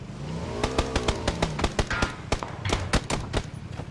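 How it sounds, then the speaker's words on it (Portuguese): A motorcycle engine revs hard in the video game Battlegrounds, its pitch rising and falling with the throttle while sharp gunshot cracks punch through in rapid bursts. "Uma moto."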